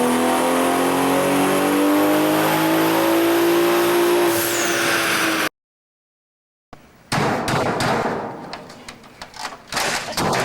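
A turbocharged car on a dyno runs JB4 map 2 with P59 big turbo firmware at about 20 PSI of boost, its engine note climbing steadily and loudly before cutting off. After a short silence come scattered clattering noises.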